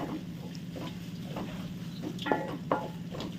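Green beans and crushed garlic stirred in a frying pan, a steady soft sizzle with a few light scraping clicks of the spoon near the end.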